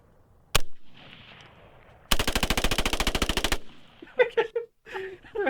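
Rifle fitted with a bump stock fires a rapid burst of about two dozen close, loud shots in quick even succession, preceded by a single shot and followed by brief speech.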